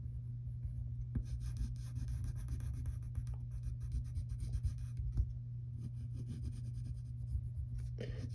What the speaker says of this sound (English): shade in these eyes black with the side of your pencil